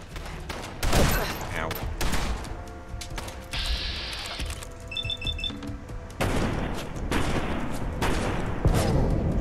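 Gunfire from a poor-quality weapon in the video game Fallout: London, a run of loud bursts and shots coming in irregular clusters, with electronic beeps and other game effects mixed in.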